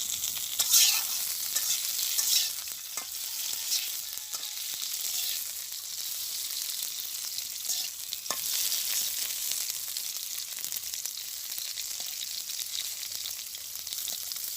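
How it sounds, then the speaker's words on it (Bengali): Pointed gourd pieces frying in oil in a pan for a village-style milk curry, giving a dense continuous sizzle with a few scraping turns early on, steady and close. "তো আমি পটলগুলো একটু উল্টাই দিই"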